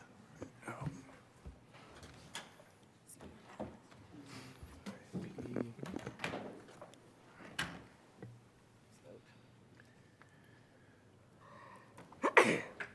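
A single sharp sneeze near the end, loud and close, after quiet room noise with some soft voices and shuffling, during a city council meeting.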